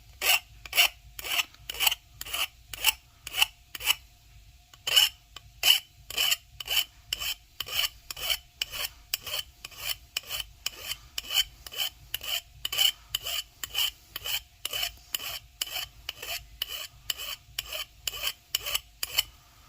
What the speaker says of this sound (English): We're just sawing or filing them down a bit.